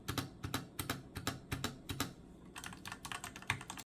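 Typing on a cheap $12 GameStop mechanical computer keyboard gives crisp, close, clicky keystrokes in quick irregular runs, with a faint pause and a lighter flurry at the end, and no voices.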